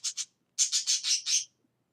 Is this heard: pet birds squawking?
yes